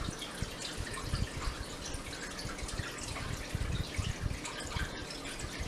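Water squirts and trickles from a Fluval 406 aquarium canister filter as its flow lever is moved, a faint, continuous dribbling and spattering.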